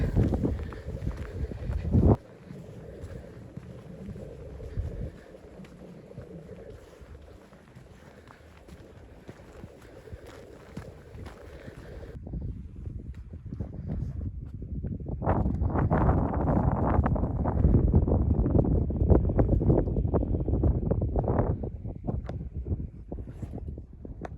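Strong wind gusting across an exposed hill ridge in the Peak District, rough roaring buffets against the microphone that die down for a few seconds, then return stronger and steadier.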